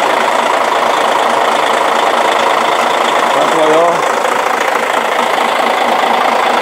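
A 2013 Hyundai Universe Noble 47-seat bus engine idles steadily and loudly throughout, with a person briefly speaking over the rumble.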